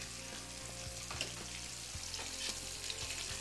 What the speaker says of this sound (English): the bacon, you just need it to crisp up and cook so you can crumble it later